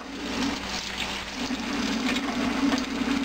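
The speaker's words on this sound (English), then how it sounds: "Rinse the pieces out if you like." Tap water runs steadily over the parts of an Omega 8006 juicer as they are rinsed, a close, continuous splashing hiss with slight fluctuations.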